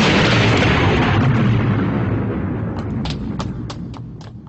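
A charge detonation in an anime erupts as a loud, sustained broadband roar that slowly fades over several seconds, with a series of sharp crackling bursts popping through the tail end.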